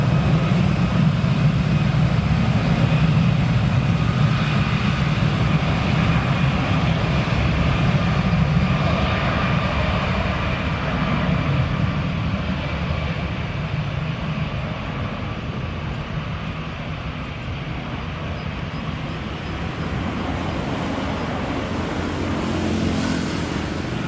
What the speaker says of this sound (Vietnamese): Bây giờ là pha chạy đà cất cánh của chiếc A320 được trang trí hình hai tiếp viên của hãng Bamboo Airways.